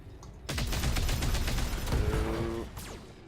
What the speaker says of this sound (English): Ammo explosion, we like that.